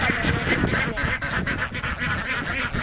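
A flock of ducks raised at home beside a pond and open field quacks continuously up close, overlapping nasal calls in a busy, noisy chorus.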